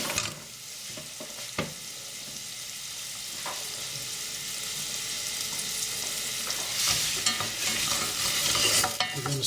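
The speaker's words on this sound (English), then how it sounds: "What I want to do now is add in my onions." Onions go into a pan of fried garlic, ginger and curry paste for a curry base, sizzling steadily and growing louder as a spoon scrapes and stirs with a few sharp clacks.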